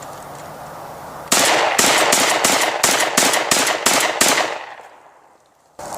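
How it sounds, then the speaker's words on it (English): Shotgun loaded with birdshot fired at a metal barrel outdoors: about nine sharp, loud shots crack in rapid, even succession after a quiet start, followed by a fading tail and near silence. "This is loaded with birdshot. I'm gonna shoot at that barrel."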